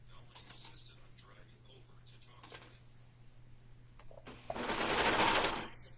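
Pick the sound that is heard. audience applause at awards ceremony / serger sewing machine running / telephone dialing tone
serger sewing machine running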